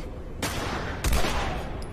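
Gunfire from a Tommy gun in the video game The Last of Us, two loud bursts of shots half a second apart over steady background game noise.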